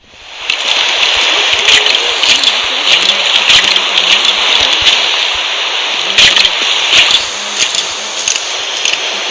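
Rain in the Minecraft video game falls as a loud, steady hiss and patter that starts abruptly and holds throughout with scattered sharper droplet splashes, and no one speaks over it.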